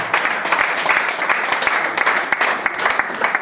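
A church congregation applauding during worship, with dense, steady clapping from many hands filling the room, loud and close, with voices faintly mixed in.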